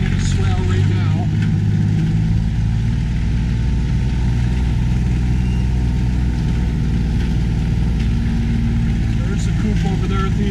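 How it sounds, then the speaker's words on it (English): A car driving slowly through a swale near drought-hit farm ponds, its engine a loud, steady low rumble throughout, with a person talking over it. "I'm actually driving in a swale right now."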